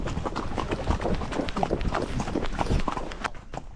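Horses clip-clopping on a jungle ride in Colombia, dense overlapping hoofbeats from several animals close by, steady and busy throughout.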